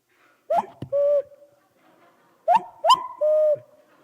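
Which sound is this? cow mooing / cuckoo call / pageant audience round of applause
cuckoo call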